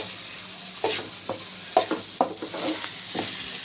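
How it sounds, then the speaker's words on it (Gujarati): Shredded cabbage fried in oil in a pan, with scattered stirring scrapes and soft sizzling bursts at an uneven pace, close up and alone. "તેલ મૂકી કોબી નાખી છે"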